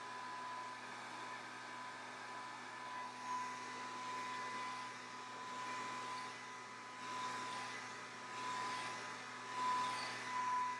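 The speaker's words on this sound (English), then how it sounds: "Blow dryer is an amazing thing." A handheld blow dryer runs steadily while drying hair, a continuous whooshing airflow with a faint motor whine that stays fairly even, swelling slightly now and then as it moves, with no talking.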